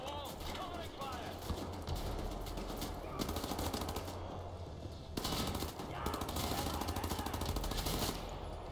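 Rapid bursts of automatic gunfire in the shooter game Wolfenstein: The New Order, continuous rattling volleys layered over a busy battle soundscape, with someone talking over the action.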